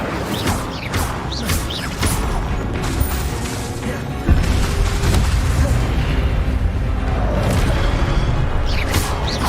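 The Incendio fire spell in Hogwarts Legacy is cast amid a dense, loud mix of whooshing bursts and booming impacts from other spells, with a heavy fiery blast surging up partway through and continuing to the end.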